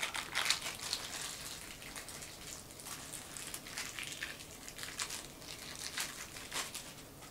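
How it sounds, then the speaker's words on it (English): Crinkly plastic packaging rustles and tears as a joystick ball top is unwrapped, a busy run of close, sharp crackles with small bursts throughout and no talking. "Pay no mind to me unwrapping stuff"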